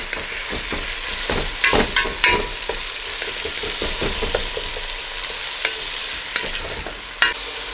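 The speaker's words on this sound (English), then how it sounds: "And fry everything up until it becomes a nice soft paste." Onions, chilies and tomatoes frying for a chicken curry, with a steady bright sizzle and repeated scrapes and clacks of a spoon stirring the pan, close and alone.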